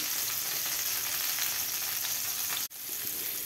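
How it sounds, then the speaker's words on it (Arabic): Onions frying in butter and oil in a pan, a close, steady sizzle with faint stirring, broken once by a brief dip near the end. "انا جبت طاسه حطيت فيها معلقه زبده وحبه زيت. هننزل بقى هنا بالبصل."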